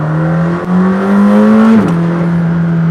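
A McLaren Senna's engine revs hard to 7,000 RPM, heard from inside the cabin as a loud, rising drone that climbs steadily, then drops off as the revs fall.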